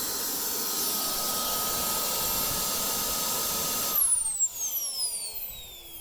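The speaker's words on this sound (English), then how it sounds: "to kill it, we take our trim all the way down and it'll shut off" A Kingtech K45G3 model jet turbine roaring with a steady high whine, then shutting off abruptly as its pitch sweeps downward and the broad rush fades, leaving falling tones as it spools down, close by.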